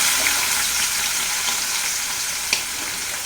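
Onion and green chilli sizzle in hot coconut oil in a pan, a loud, steady, close hiss that runs unbroken with no voices.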